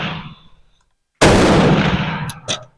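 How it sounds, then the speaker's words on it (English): A Bren MK2 rifle fires one very loud, sharp shot at close range. A shorter crack or echo follows about a second later, and the opening is quiet apart from faint background noise. "Very loud rifle."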